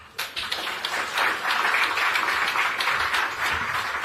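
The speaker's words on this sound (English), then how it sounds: "A warm round of applause for him." Audience applause at a launch event in Nairobi, with dense, sustained clapping that swells after a short start and stays loud throughout.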